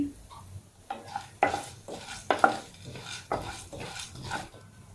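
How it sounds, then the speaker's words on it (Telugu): Chana dal and coriander seeds dry-roasting in a pan for mirchi masala, a spoon scraping and stirring in uneven strokes with faint crackle, close and moderately soft. "శనగపప్పు కొద్దిగా వేగిన తర్వాత అర్ధ స్పూను ధనియాలు వేసుకోండి"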